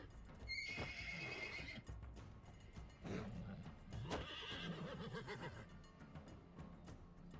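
A horse neighs loudly near the start over a dense soundscape in the video game Wartales, with hoofbeats clip-clopping and clashing effects continuing throughout.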